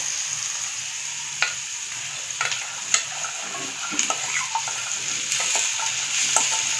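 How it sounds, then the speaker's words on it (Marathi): Okra and onion fry in a pan with a bright, steady sizzling hiss throughout, broken by several short scrapes and taps of a spatula stirring the vegetables, close and with no talking. "आता कांदा आपला भाजलाय चांगला. आपण भेंडी टाकून घेऊया."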